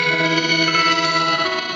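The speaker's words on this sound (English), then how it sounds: "Now you hear it's taking your octave shift up and it's shifting it up again and again and again." Electric guitar run through a Pladask Elektrisk Baklengs pedal, its octave shifter pushing the pitch upward again and again into a dense, distorted, reverberant wash that rings continuously without a break.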